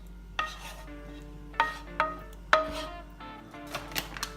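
The last of the sauce for a chicken lasagna is poured over the top layer and spread, with a few sharp utensil clinks against the dish and soft wet scraping, close up with no voices.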